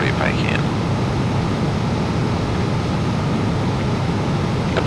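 Jet engine thrust of a Beechjet Hawker 400 business jet in the Flight Unlimited 3 flight simulator: a steady, loud broadband roar and rush that holds constant throughout.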